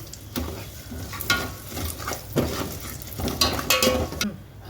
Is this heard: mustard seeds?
yes